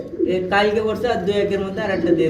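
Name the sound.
Tailmark pigeons cooing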